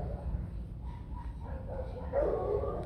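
A white shaggy Bac Ha dog, a Vietnamese breed, gives a faint, distant bark or yelp near the end, over a low background murmur.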